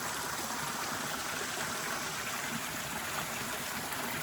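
Water runs steadily into a tube at a DIY backyard pond with a concrete bowl, a constant even rushing trickle at moderate volume, with no voices.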